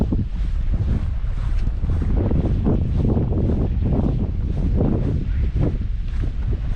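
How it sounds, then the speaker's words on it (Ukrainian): Strong north wind at a fishing spot roars and buffets the microphone continuously, with a low rumbling texture and no voices. "Північний вітер, хлопці."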